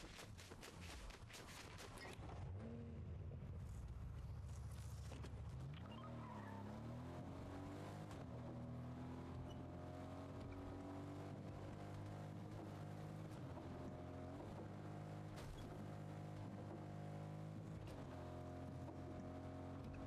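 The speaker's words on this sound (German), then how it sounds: "Dann kommt ein Auto, was ist denn hier?" A car driven in the video game Fortnite, with a loud, continuous engine drone whose pitch rises and falls with acceleration and gear changes, plus squealing tires and scattered clicks.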